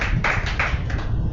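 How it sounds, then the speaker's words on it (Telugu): A church congregation claps hands during a Telugu sermon, a few loud rhythmic claps close by over a steady roomy background rumble. "గట్టిగా చప్పట్లు కొట్టి దేవుని నామమున మహిమపడతాం."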